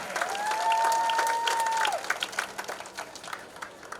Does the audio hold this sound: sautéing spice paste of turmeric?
no